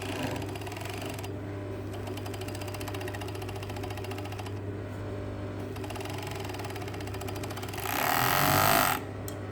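A sewing machine runs steadily stitching the side seams of tailored shorts, a continuous close mechanical whir with a louder, faster burst near the end.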